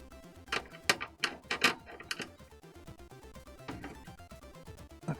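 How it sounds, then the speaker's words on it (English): Screws being unscrewed from Commodore 64 hardware, a run of irregular small clicks and scraping ticks from a screwdriver working close by, with no talking. "And now we have to do some unscrewing."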